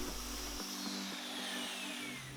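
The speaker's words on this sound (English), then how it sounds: "Here I'm using a speed square to make my lines and a circular saw to make the cuts." A circular saw cuts wooden boards, a loud, steady high whine with a rhythmic pattern of blade strikes, running nearby through the whole stretch.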